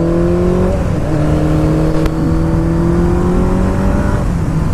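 A 1985 Kawasaki GPZ900R motorcycle engine hums steadily up close, its pitch climbing gently as it revs and holds, with a throaty dual-exhaust drone throughout.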